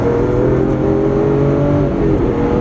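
A Lamborghini Aventador's steady, loud engine drone with a brief dip in tone as its automatic transmission changes gear, then continuing to run smoothly.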